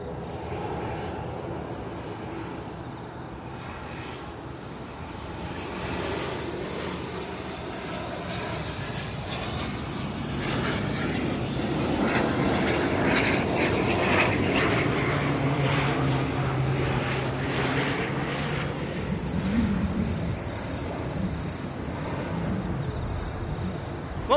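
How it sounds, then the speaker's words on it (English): An ATR turboprop arriving at Auckland from Palmerston North, engine drone building from moderate to louder as it nears, with a low propeller hum holding steady for the rest of the pass. "ATR coming in from the home of the ATR to Auckland,"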